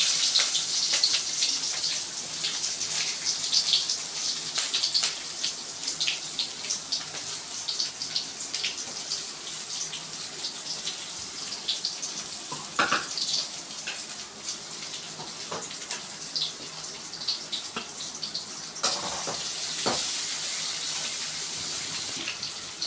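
Sliced onions sizzle steadily in hot oil in a pan for broad beans poriyal, a Tamil avarakkai stir-fry. The hiss is soft and continuous, with a few louder spatters and stirring clatters partway through. No one speaks.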